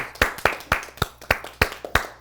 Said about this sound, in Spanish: Un aplauso para el Eterno.